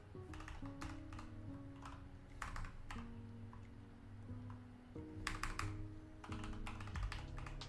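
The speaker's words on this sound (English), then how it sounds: "Typing like a madman?" Fast, continuous keystrokes clatter on a computer keyboard in a quiet room, with bursts of rapid tapping and short pauses between runs, close and fairly soft.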